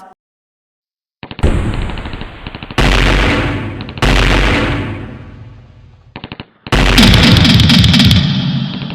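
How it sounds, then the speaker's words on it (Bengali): Loud bursts of gunfire in several separate volleys, some rapid like a machine gun, with short silences between them and no voices. "হঠাৎ কয়েকটি গুলির আওয়াজ।"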